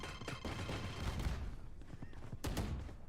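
Gunfire and a grenade blast in a Valorant match on the Bind map, bursts of sharp rifle shots and thumps crackling close together, dense and busy, with a faint voice underneath.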